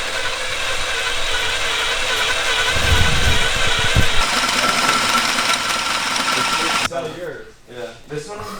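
Drill boring a hole through metal on a turbocharged Mazda Miata, a steady whirring grind with a brief harder burst midway, then the drill stops and someone talks.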